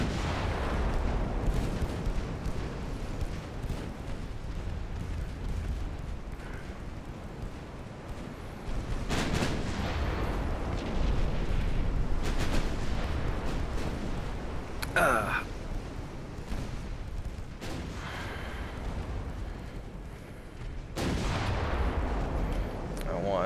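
Heavy warship main and secondary guns firing in Ultimate Admiral Dreadnoughts, a naval battle game, with deep booming blasts and rumbling gunfire rolling through the scene while a voice talks over it.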